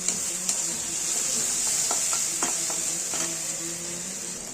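Chopped green chillies frying in a pan for an omelette curry, a steady bright sizzle with a few clicks and scrapes of stirring over it, close and fairly loud, no talking.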